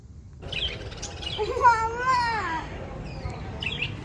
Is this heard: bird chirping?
yes